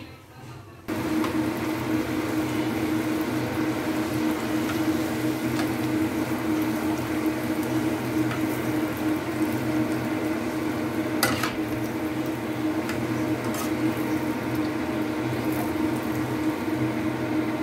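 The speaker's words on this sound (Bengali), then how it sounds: "তো চলো তো লুচি ভাজি" Luchi fry in oil in a kadai: a steady, close bubbling sizzle switches on abruptly and holds with a constant hum, broken by occasional light metallic clicks and clatter.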